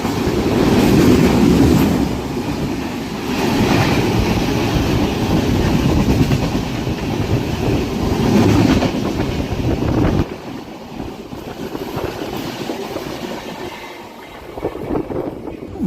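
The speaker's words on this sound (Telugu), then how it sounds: "పూణే నుంచి భువనేశ్వర్ వెళ్తుంది" A Pune–Bhubaneswar train rushes past close by in a loud, dense roar with rhythmic wheel clatter. The roar drops abruptly to a quieter rumble partway through, and no one speaks.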